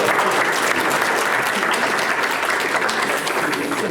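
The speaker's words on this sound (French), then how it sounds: "N'hésitez pas à regagner vos places sous les applaudissements du public." Loud, dense audience applause at an improv theatre show, continuous and even throughout with no pauses.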